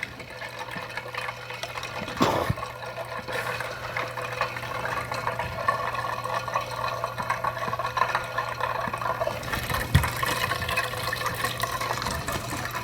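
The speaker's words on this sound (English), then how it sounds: "I'm going to add 25 mils of milk of magnesia" Milk of magnesia poured into a small 25 ml beaker for a chemistry demonstration, a steady close liquid pour and trickle lasting several seconds over a faint low hum, with no talking.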